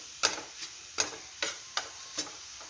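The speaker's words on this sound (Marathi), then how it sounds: "1-2 मिनिटं अजून परतून घेऊ." Sweet kachori filling being sautéed in a pan while sugar melts into it, heard as a series of about seven sharp spoon scrapes at a regular pace over a faint background sizzle.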